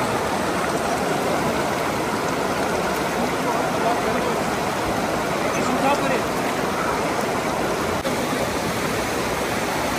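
Glacier-fed stream in Kumrat Valley, Pakistan, rushing steadily over rocks, a dense, continuous broadband roar that stays close and loud throughout with no breaks.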